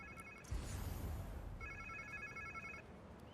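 A phone rings in the Spider-Man 2 video game, two bursts of an electronic trilling ring, fairly faint under steady game ambience and noise.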